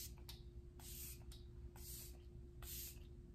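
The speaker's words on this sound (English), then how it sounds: "I'll be taking the Preserve the Serve Luminous Setting Spray, and I'm just going to spray my face." A luminous makeup setting spray mists onto a face in three short, close pump bursts with soft hissing, separated by brief pauses over a quiet room hum.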